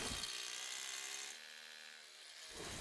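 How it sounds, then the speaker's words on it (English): A combi drill on gear setting 1 driving a masonry screw while fixing a metal gate strip for driveway gates, a steady close whine that drops in pitch and load midway, then picks up again. "I attached the first strip using a combi drill on gear setting 1 and screwed on with a masonry screw"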